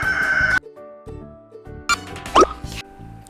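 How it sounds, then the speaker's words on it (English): A rooster crows with a loud, close cock-a-doodle-doo, a rising and falling call with a few clucks and short pauses between phrases. "A rooster makes a cock-a-doodle-doo sound."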